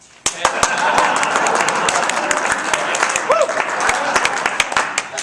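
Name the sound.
audience applause after a card trick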